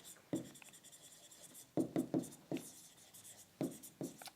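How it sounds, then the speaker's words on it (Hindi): Pen writing an accounting entry by hand on paper, quiet close scratches and taps in irregular short bursts. "हम लिखेंगे पुनीत"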